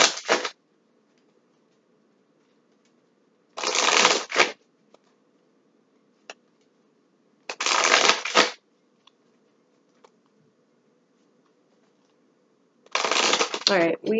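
Tarot cards being shuffled in three distinct bursts of crisp riffling, each about a second long and separated by quiet pauses, close and fairly loud, with faint low hum between.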